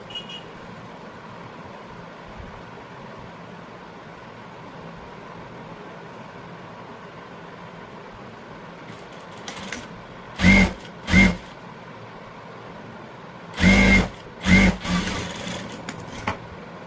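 After a long quiet hum, a sewing machine stitching a blouse whirs in four short, sharp bursts, two quick runs and then two more a moment later, close and fairly loud.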